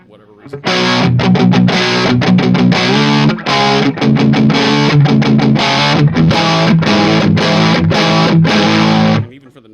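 Electric guitar on the neck pickup driven through a Mooer Black Secret distortion pedal, loud, bright, heavily distorted chords played in a choppy rhythm with brief gaps, ending abruptly.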